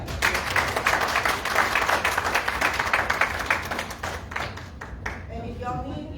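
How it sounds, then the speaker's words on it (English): An audience gives Brandon a loud round of applause, dense clapping near and steady for about four seconds, then thinning to scattered claps as a voice starts talking at the end. "give Brandon another round of applause"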